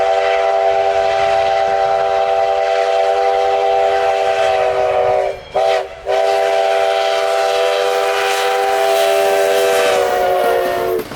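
U.S. Sugar Lake Placid Limited train sounding a loud, sustained multi-tone horn close by, held for several seconds with a brief break midway, then continuing.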